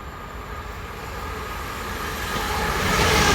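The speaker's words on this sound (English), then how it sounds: "It says train now approaching. Doesn't stop here." A fast train passes through Stevenage station without stopping, its steady rushing roar swelling louder toward the end, with no voices.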